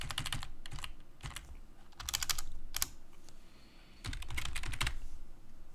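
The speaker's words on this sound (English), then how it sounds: "I was talking and typing at the same time" Rapid bursts of typing on a computer keyboard at a Linux terminal, clattering keystrokes arriving in uneven clusters with short pauses between them, close and clear.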